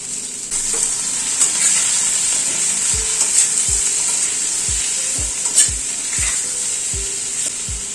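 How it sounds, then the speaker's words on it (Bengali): Potato and pointed gourd pieces frying in hot oil with salt and turmeric, a loud, bright, continuous sizzle with occasional low knocks of a spatula against the pan. "নুন আর হলুদ দিয়ে আলু পটলটাকে একটু ভেজে নেব।"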